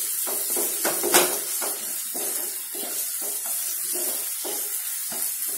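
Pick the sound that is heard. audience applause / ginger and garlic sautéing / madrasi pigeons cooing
ginger and garlic sautéing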